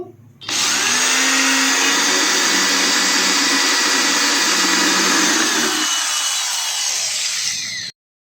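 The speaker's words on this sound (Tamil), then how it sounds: "அதே மாதிரி இன்னொரு சைடும் ட்ரில் பண்ணுறோம்" A power drill bores out the rivets holding a vehicle number plate, a loud continuous whine that starts abruptly, runs steadily for about seven seconds with a slight drop in pitch partway, then cuts off.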